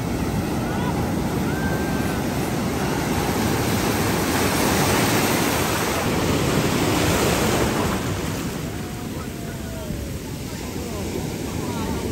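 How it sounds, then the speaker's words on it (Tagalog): Ocean surf roars and crashes steadily close by, a dense wash of breaking waves with wind buffeting throughout, in La Union. "Lakas ang alon."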